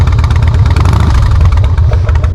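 Harley-Davidson Softail Fat Boy with a Vance & Hines big radius exhaust idling up close while warming up, a loud, steady low-pitched lumpy rumble with slight throttle blips and no talking.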